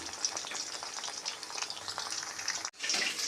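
Chicken 65 deep-fries in hot oil on a medium flame, a dense, continuous bubbling sizzle close by, broken by a momentary dropout before the frying resumes.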